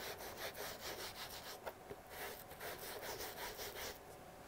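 Paper towel dragged over paper during a painting session, a rough, steady scraping in repeated back-and-forth strokes, close and fairly loud, much like sawing wood, with no talking.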